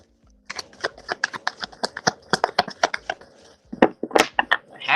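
A deck of tarot cards being shuffled during a reading, with a run of quick crisp riffling flutters and taps in two bursts separated by a short pause, close and fairly loud.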